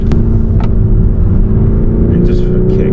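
A BMW 430i xDrive engine drones loudly and steadily as the driver holds high revs, a continuous sustained roar with a slowly rising tone, joined by brief rattles and faint background noise.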